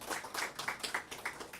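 A congregation at a year-end Sunday worship service applauds one another, with rhythmic, moderately quiet clapping from a modest group and no talking over it.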